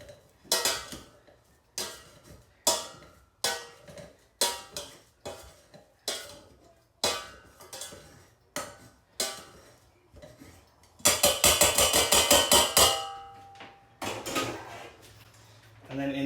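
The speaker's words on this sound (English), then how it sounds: "start mashing your potatoes" Potatoes being mashed in a pot with a masher for crab cakes, a steady series of close knocking thumps against the pot, then a rapid burst of quick clattering strokes, with no voices.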